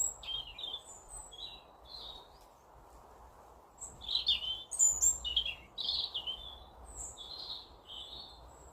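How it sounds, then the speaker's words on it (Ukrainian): Small birds chirp and twitter in short bursts against a quiet, hushed park background, the calls fairly near and growing busier midway. "как гарно пташечки співають"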